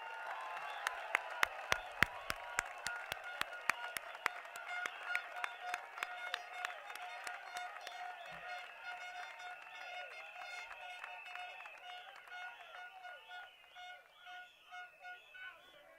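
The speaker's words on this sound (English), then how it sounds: "let's have a loud round of applause for Team WP" A Workers' Party election rally crowd at Blk 344 Ubi Ave 1 claps and cheers, with bursts of sharp clapping early on under a steady drone of honking horns and crowd noise that carries on throughout.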